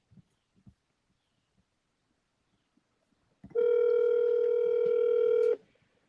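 A single steady ringback tone on an outgoing telephone call to a Utah number, sounding for about two seconds alone after a few faint clicks and taps, loud and continuous before cutting off.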